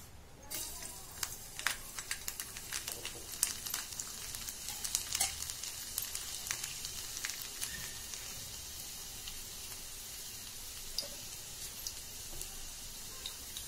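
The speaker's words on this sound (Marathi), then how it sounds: "आपलं तेल चांगलं तापलेलं आहे. आता आपण फोडणीत आधी लसूण घालू." Hot oil hisses and crackles softly as garlic fries, with scattered sharp pops over a quiet, steady sizzle.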